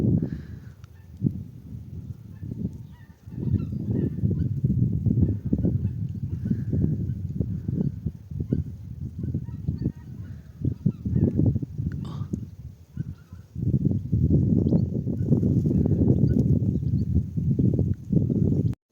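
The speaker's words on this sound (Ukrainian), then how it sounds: "Ну, та як гуси гягають." A flock of wild geese honks continuously, a dense, rumbling chorus of calls that carries on for the whole stretch with only brief lulls.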